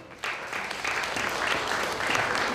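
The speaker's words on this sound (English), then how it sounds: "Please give them a round of applause" Wedding guests clapping for the sponsors, a crowd's applause that starts abruptly and builds into a dense, steady patter of many hands.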